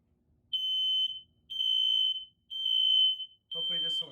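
A smoke alarm set off by a test smoke can beeps four times in a steady on-off pattern, each tone about half a second long, loud and close, with a faint rumble of handling noise at the start.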